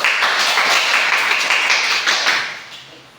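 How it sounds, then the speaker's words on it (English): A class of students giving a round of applause in a math demonstration lesson, a dense burst of clapping that holds steady for a few seconds and then fades out. "Now give everybody a round of applause."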